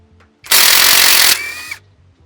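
A Bauer compact half-inch cordless impact wrench zips off a lug nut in one loud, continuous burst of about a second, running at speed 3 on a full battery. It eases to a softer whir before stopping.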